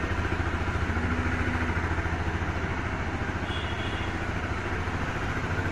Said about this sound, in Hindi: एक बार कोल्ड स्टार्ट दे दिया हमने बाइक को।